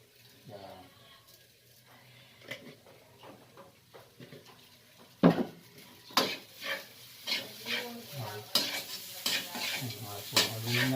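Sinangag, Filipino garlic fried rice, being stirred in a pan: a utensil scrapes and pushes the rice in repeated strokes over a soft sizzle, growing louder and more rhythmic in the second half.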